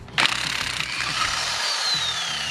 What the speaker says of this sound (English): Now I'm gonna pull it off the rest of the way with the impact.